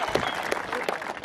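An audience at a wrestling event in Uzbekistan claps for an Olympic wrestler, with a few sharp individual claps standing out from lively crowd applause while voices carry over it.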